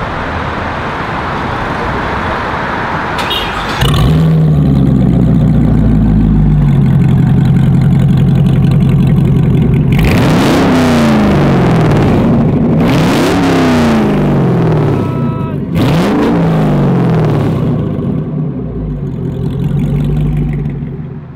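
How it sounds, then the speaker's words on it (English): A Devel Sixteen hypercar engine fires up and settles into a loud, deep idle, then is blipped through three sharp revs that rise and fall, heard close and alone. "Let's turn her on and first of all see how the DEVEL 16 sounds."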